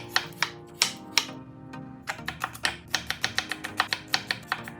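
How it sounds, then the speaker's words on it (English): Knife slicing carrots thinly on a cutting board for a Korean rolled egg omelette, a steady run of crisp, close chops that speeds into a quick even rhythm. "Slice the carrots thinly."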